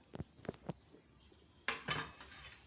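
A metal spoon stirs fried potatoes and fried corn kernels in a pan, giving a few sharp scrapes and clinks, then a denser burst of scraping toward the end, quiet and close.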